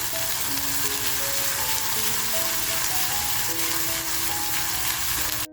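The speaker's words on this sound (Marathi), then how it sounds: "थोडासा आपल्याला छान असा तेलामध्ये परतवून घ्यायचं आहे" Raw masala paste sautéing in oil for a mandeli fish dish, a loud, continuous sizzle close by, with faint steady tones in the background and a brief knock at the very end.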